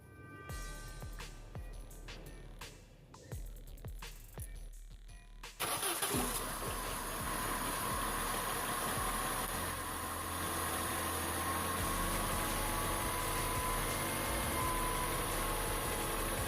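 A Saturn SL1 with a SOHC engine cranks with several rhythmic starter clicks, then catches abruptly around five seconds in and settles into a loud, steady, close idle for the rest of the clip.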